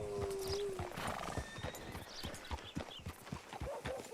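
Horse hooves clip-clop in a steady rhythmic gait in a Red Dead Redemption 2 scene, with a brief whinny near the start and occasional snorts, close and fairly loud throughout.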